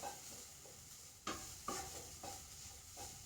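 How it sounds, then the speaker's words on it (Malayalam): Garam masala is stirred into a spiced masala mixture for masala puttu in a pan. A spoon scrapes in a few soft, spaced strokes over a faint, steady sizzle, with no talk. "ഇട്ട് കൊടുത്ത് നന്നായിട്ട് ഒന്നും കൂടെ ഇളക്കിയെടുക്കാം"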